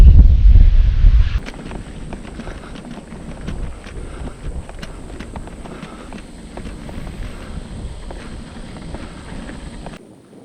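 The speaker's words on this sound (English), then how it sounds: "So much for that wind easing off. It started blowing up again yesterday," Strong wind buffets a microphone during a bikepacking ride in Kinkuna, with a heavy low rumble at first that eases into a steady gusty hiss with scattered clicks and rattles.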